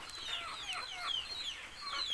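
A group of chickens clucking and chattering continuously nearby, with overlapping squawks and chirps over a quiet outdoor background.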